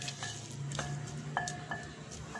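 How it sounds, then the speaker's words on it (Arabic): Chopped onion frying in oil in a pan while being stirred, with a steady sizzle under scattered clinks of a utensil against the pan. "غادي نديرو البصله اللي قطعتها وشلطتها مزيان في الزيت، نحاول نخلط مزيان"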